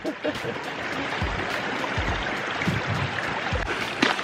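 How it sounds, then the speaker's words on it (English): Fresh spring water flows out of a Montana hillside as a constant rushing trickle, close and steady, with a few low knocks and bumps underneath. "There's the spring coming straight out of the"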